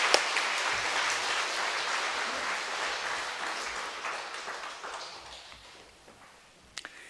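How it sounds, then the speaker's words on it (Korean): A church congregation applauds steadily for several seconds at a pastor's installation service, the clapping slowly thinning out and fading toward the end. "우리 박수로 한번 영광 드리겠습니다."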